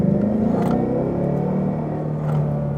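A 2016 Ford Mustang GT or 2016 Chevrolet Camaro SS V8 muscle car engine, a deep throaty rumble heard from inside the car as the revs drop and settle, loud and steady without voices.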